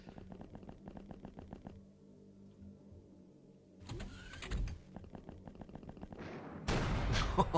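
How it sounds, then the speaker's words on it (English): A rail driver weapon fires a snapshot in the X-Piratez strategy game, producing sharp, loud blasts that burst out amid rhythmic in-game mechanical sounds. "Snapshot from the rail driver."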